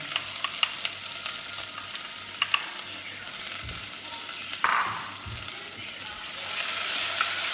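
A panful of onions sizzles in Indian home cooking, making a continuous dense crackling fry that grows louder toward the end, with a few soft knocks of stirring.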